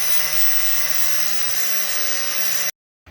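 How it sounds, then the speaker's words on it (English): Angle grinder cutting and grinding steel, a loud continuous high-pitched whine with a steady tone that cuts off abruptly near the end. "Lots of grinding, lots of cutting."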